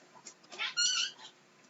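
A house cat gives a single drawn-out meow that rises and falls, close and clear against quiet surroundings.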